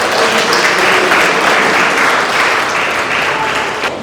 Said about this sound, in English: Can we give it a round of applause?